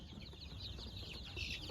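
Chickens at a local poultry farm cluck faintly in a brief, quiet stretch of low background noise.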